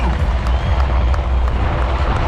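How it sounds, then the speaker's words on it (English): A crowd applauds steadily at a Coast Guard rescue demonstration in Orlando as a rescue swimmer appears. The dense, continuous clapping runs throughout, mixed with a heavy low rumble. "Let's give him a huge round of applause, Orlando."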